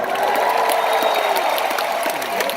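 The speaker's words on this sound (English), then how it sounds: "Give Tim a round of applause." Dense, sustained applause from a large audience at a WFG conference in Las Vegas, loud and continuous clapping throughout with no talk on top.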